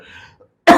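A single sharp cough, close and loud, bursting out after a brief faint murmur and near-silence.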